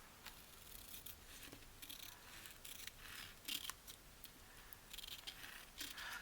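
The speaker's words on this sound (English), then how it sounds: "We'll trim that little piece off." Scissors trim a small piece of paper for a journal, making quiet, close snips and crisp cutting sounds in an irregular rhythm.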